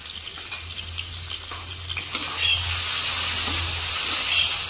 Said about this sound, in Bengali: ভালো করে কষে নিচ্ছি, যাতে আদা রসুনের কাঁচা গন্ধটা না থাকে